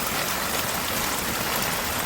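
Rainwater pours steadily into a round, domed French drain grate, a continuous broadband rushing and splashing with no talk.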